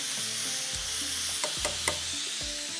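Onion, ginger and garlic fry in a pan for a spicy mutton khara masala, giving a steady sizzle with a few utensil taps and scrapes over a low hum.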